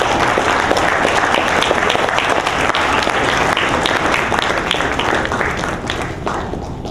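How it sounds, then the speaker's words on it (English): Loud, sustained applause from a large crowd, steady clapping throughout that eases slightly toward the end. "can we give them a round of applause?"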